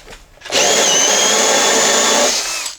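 A drill in low range turns a Milwaukee 2-inch hole saw, boring into material with a loud, steady whine and grinding that holds for about two seconds before easing off.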